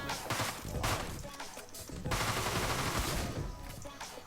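Gunfire in the top-down shooter Deadbolt, a dense crackling volley of shots and impacts that runs steadily and loudly through the whole stretch with no pauses.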